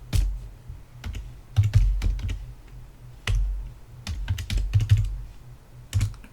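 An IP address being typed on a computer keyboard while setting up a Raspberry Pi: close, irregular bursts of key clicks with short pauses between runs of keystrokes.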